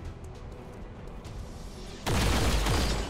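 Gunfire in the video game XCOM 2: a sudden loud burst of shots and booms that breaks in after two seconds of quieter game ambience and keeps going to the end.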